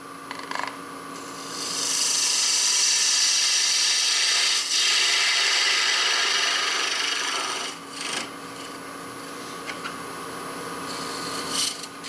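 A wood lathe finishes the top of a turned lid with a light scrape, giving a steady, close hissing rasp that runs for several seconds, drops away briefly and then resumes more softly.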